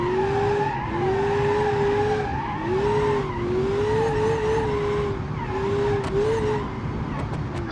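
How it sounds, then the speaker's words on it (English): A supercharged V8 car in the driving game BeamNG.Drive revs steadily with a whining, rising and falling engine note over tyre squeal, loud and close throughout. "wow, that V8 sound with the supercharger"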